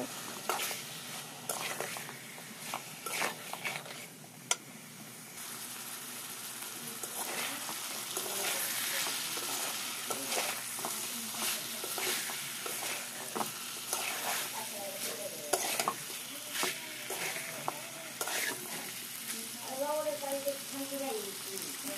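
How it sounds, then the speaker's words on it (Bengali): Chicken pieces fry in a pan with salt, turmeric, chili and coriander powder, giving a steady sizzle with stirring scrapes under a voice speaking at moments throughout. "লবণ, হলুদের গুঁড়ো, মরিচের গুঁড়ো, ধনিয়ার গুঁড়ো, মাংসের দিয়ে এবার সব ভালো মতো একসাথে ভেজে নেব।"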